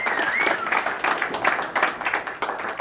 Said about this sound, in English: Round of applause for Garry Johal for coming up.